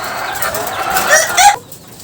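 Chickens kept in cages in a stairwell room cluck and fuss close by, a steady run of calls with wing flutters and a sharper squawk near the end before it cuts to quiet.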